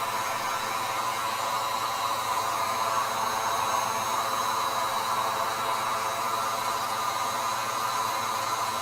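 A heat gun blows hot air over gouache paint, giving a steady, loud, even whoosh of broadband noise with a motor hum that runs unbroken the whole time, with no voices.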